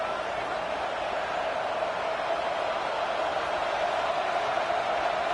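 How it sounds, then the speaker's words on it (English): A big Red Raider football stadium crowd roars steadily on a third down, a dense, continuous wash of cheering and noise that holds at an even, loud level throughout with no distinct voices standing out. "The Red Raider crowd rising to the occasion to help its defense on third down"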